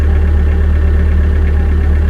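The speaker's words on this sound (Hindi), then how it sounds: "बस अपने सुस्त इंजन की घरघराहट में रास्ता काट रही थी।" A sluggish bus engine rumbles in a steady low drone, loud and close, with no change in pace.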